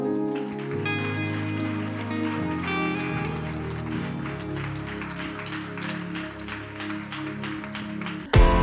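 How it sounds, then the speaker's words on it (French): A church congregation rises to its feet to acclaim and applaud, giving a sustained clapping and cheering roar that carries over steady music. It ends with a brief loud thump. "L'église se lève et acclame sur Dieu."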